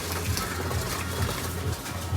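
Hungry pigeons coo in a loft with low, repeated throaty calls pulsing about every half second, steady and close, over a faint rustling background.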